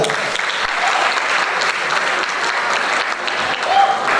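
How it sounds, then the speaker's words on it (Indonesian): A school alumni-sharing audience bursts into loud, sustained clapping that fills the whole moment, dense and even from start to finish. "Tepuk tangan dong buat Dilan"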